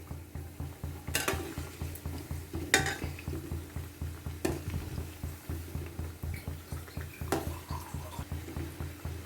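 Urad dal vadas (medu vada) frying in oil over a low flame, a soft ongoing sizzle broken by rhythmic scraping and stirring of a metal ladle against the pan and a few sharp clinks, close up with no talk.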